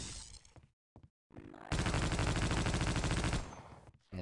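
Gunfire from a weapon in Half-Life: Opposing Force, a few short clipped shots and then a sustained loud burst of automatic fire lasting nearly two seconds before it cuts off.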